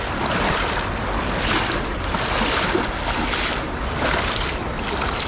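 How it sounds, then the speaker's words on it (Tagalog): A strong current rushing down a small river, a steady broadband wash of water noise with gentle surges and some wind buffeting, fairly close and continuous. "Ang lakas ng agos."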